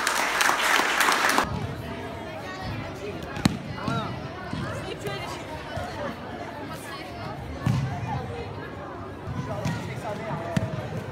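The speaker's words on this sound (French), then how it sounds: "donc déjà je dois vous demander de les applaudir." At a dojo's fifth-anniversary event, the audience bursts into loud applause that cuts off after about a second and a half. Murmured crowd chatter and occasional thuds and knocks follow in a large room.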